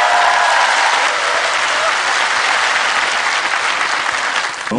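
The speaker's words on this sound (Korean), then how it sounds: "다시 한번 큰 박수 부탁드리겠습니다." A large studio audience at a Korean televised music competition show bursts into loud, sustained applause, a dense wash of clapping that holds steady for several seconds and begins to taper at the very end.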